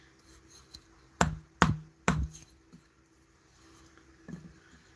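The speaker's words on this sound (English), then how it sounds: "I'm gonna pop it with a little mallet so I can have me a good divot to start with" Three sharp, quiet taps of a small mallet drive a center punch into wood on a lathe to make a starting divot, followed by a fainter fourth tap against a quiet shop background.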